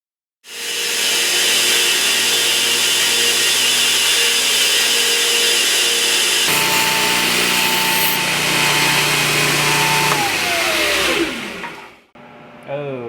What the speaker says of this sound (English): So we're gonna grind in the bevels